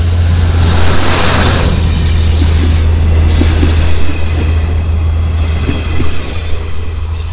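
A train rolls past on a railway line beside the Khirai flower fields near Kolkata, with a loud, steady low rumble and high metallic wheel squeals rising and fading over it.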